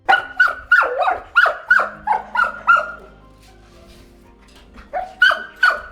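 Caged Belgian Malinois and forest dogs bark loudly and close in a rapid run of about ten sharp barks, pause briefly amid quieter whimpers, then bark again several times.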